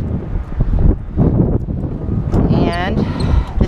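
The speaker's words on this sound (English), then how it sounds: "sunny but a bit windy" Wind blowing outside an RV with roof solar panels on a sunny day, a steady low rumbling buffet of wind noise across the microphone, loud and continuous, with a person talking over it.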